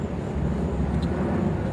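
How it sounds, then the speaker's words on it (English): An airplane passing overhead makes a low, steady rumbling drone that stays loud throughout, heard outdoors without talk. "let me let that plane go by because it's getting loud."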